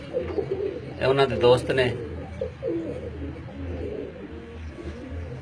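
Pigeons coo softly and repeatedly in a loft, low throaty murmurs continuing in the background while someone speaks over them at the start.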